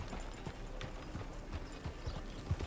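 Horse hooves clop at a walking pace in Red Dead Redemption 2, soft irregular thuds over a steady outdoor ambience, fairly faint and without speech.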